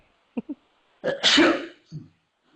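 A single sneeze with a sharp inhale beforehand and a brief follow-up sound, set against quiet.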